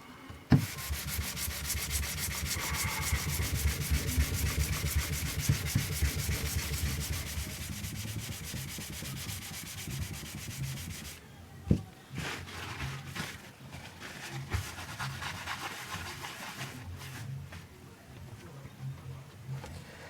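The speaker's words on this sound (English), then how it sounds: "So we'll sand the whole thing with this grit with 400." Guitar frets being sanded with 400-grit sandpaper: a steady, dense rubbing scrape that runs loud for about eleven seconds, then continues more softly and intermittently with a brief sharp knock in between.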